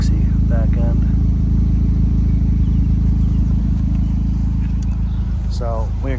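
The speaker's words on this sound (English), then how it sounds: "Listen to that exhaust." A 2016 Audi S3 Premium Plus fitted with an AWE exhaust and APR software idles nearby with a steady, deep, loud rumble, while a voice can be heard faintly over the engine.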